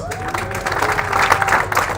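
An audience at the Project Management Institute Zimbabwe Annual Conference 2023 applauding, a brief burst of crowd clapping mixed with voices.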